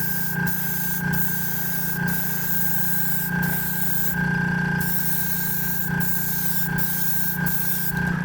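Gaaherli Mobius airbrush spraying Mr. Surfacer paint onto a model chassis, a steady close hiss broken by short pauses as the trigger is released, with a faint hum underneath.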